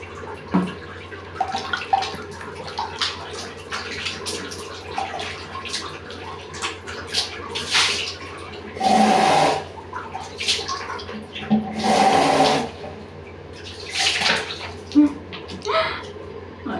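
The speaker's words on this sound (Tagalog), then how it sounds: "Ngayon, lagyan natin yung tubig." Water runs and splashes into a basin in bursts, with sloshing and dripping between, fairly close and moderately quiet.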